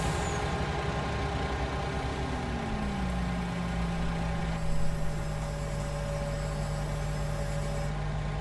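A truck engine idles steadily with a deep, continuous drone, and its pitch drops partway through. A brief hiss near the middle suggests an air-brake release.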